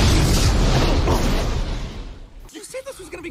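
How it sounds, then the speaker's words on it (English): A cartoonish bomb explosion sound effect bursts loudly with a booming rush, decaying over about two seconds before voices take over. "Surprise bomb."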